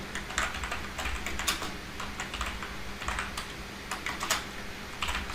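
Rapid typing on a computer keyboard, a close, busy patter of sharp key clicks in uneven bursts with a few louder strokes, with no talk.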